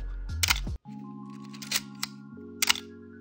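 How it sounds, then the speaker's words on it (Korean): A Canon AE-1 film camera's shutter fires at 1/1000 second, giving crisp mechanical clicks close to the mic, first a quick double snap and then further single clicks over a steady background music bed. "네, 굉장히 빨리 열렸다 닫히잖아요."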